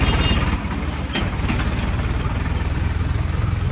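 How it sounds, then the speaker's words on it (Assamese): A tractor engine running on a road, a steady close rumbling chug with a regular pulsing beat that holds throughout, no voices. "লাই মিলি ৰাস্তাত ট্ৰেক্টৰ শব্দ"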